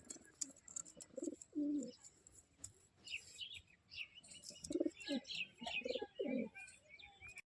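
Caged pet pigeons, among them a paired lace pigeon, coo in low repeated bursts close by, with scattered higher chirps and tweets from other birds around them.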